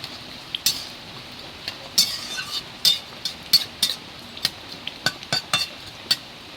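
Fried mud crab pieces tip into a pot of simmering taro flowers and are stirred with a metal spoon, giving a run of sharp, close clinks and scrapes against the pot at an uneven rhythm, with no talk.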